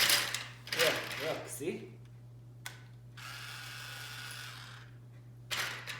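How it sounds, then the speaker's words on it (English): A toy drill from a child's tool kit running in a quiet room, with a steady whirring buzz that starts and stops a few times and a low hum underneath, while a voice talks briefly. "This is a drill."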